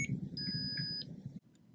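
An NDEB wireless lock sounds a pattern of steady electronic beeps as its batteries are connected, a bright tone held for under a second over a low background hum, then cutting off abruptly.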